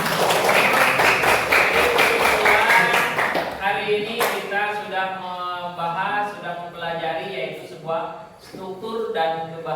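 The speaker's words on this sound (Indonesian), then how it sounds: "Tepuk tangan" Classroom applause breaking out during a school lesson, a dense burst of clapping from many hands that fills the first few seconds, then thins as a voice continues speaking over scattered claps.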